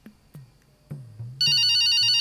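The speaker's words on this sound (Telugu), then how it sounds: "ఆ ఫోన్ కట్ చేయండి" A telephone rings loudly and continuously, cutting in after a few low thumps and bumps, then holding a steady electronic ring tone to the end.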